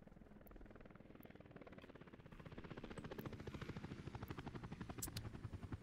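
Helicopters in the video game Workers & Resources: Soviet Republic make a steady, rhythmic rotor chop that grows louder and heavier partway through, running continuously with no talking over it.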